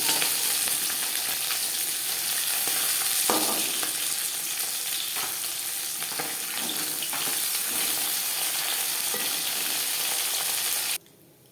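Bata fish frying in oil, a dense, continuous crackling sizzle that holds steady and close for several seconds before cutting off abruptly near the end; nobody speaks.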